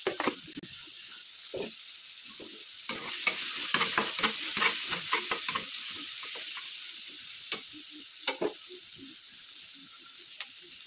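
Spiced chili-garlic-curry leaf powder cooking in a pan for uggani bajji, with steady frying sizzle and repeated scraping stir strokes, close and moderately loud, no talking.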